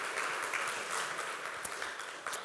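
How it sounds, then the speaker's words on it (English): A church congregation applauds its helpers with a soft, steady patter of many hands, distant and fairly quiet, with a few slightly sharper claps poking out now and then. "Let's give them a round of applause."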